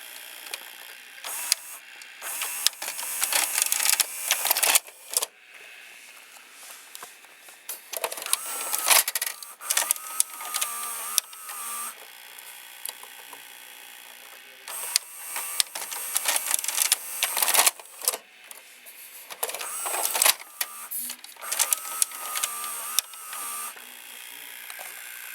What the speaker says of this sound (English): you can see when the loading motor turns, well, this gear turns